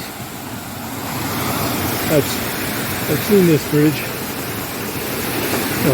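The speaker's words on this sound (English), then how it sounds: "Short walk into the woods, and we're at the Moore Creek Falls." Moore Creek Falls on the Appalachian Trail gives a steady, broad rush of falling water that fills the background, with someone talking over it briefly.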